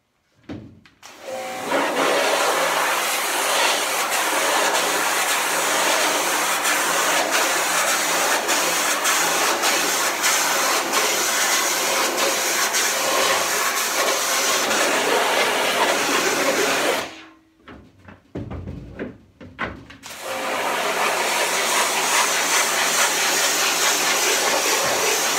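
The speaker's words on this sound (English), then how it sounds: "going to start with the pressure washer" A pressure washer blasts a screen to strip off emulsion, a loud continuous hissing spray that runs for long stretches, cuts out briefly with sputters, then resumes at full force.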